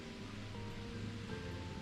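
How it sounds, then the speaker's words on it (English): Water in Final Fantasy XIV, a quiet, steady wash of flowing ambience with a faint tonal hum beneath, no voices. "The sound of water here."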